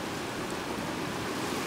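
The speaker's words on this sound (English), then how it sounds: "just listen to those waves crashing off those rocks and off the wharf." Sea waves crash against rocks and a wharf at Spoon Cove in Upper Island Cove, Newfoundland, a soft, continuous wash of surf, fairly faint and steady with no voices.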